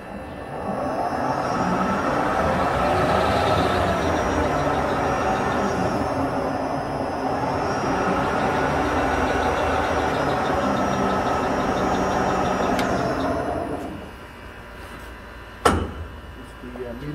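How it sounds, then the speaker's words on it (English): A Harrison Alpha 400 CNC gap bed lathe runs its spindle in low range, giving a steady mechanical hum and whir that holds for about fourteen seconds before easing off, with a brief clunk near the end. "I'll run the spindle here."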